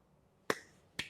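Two sharp finger snaps or hand claps about half a second apart, crisp and close, imitating the clapping style of the actor Dharmendra, with no talking.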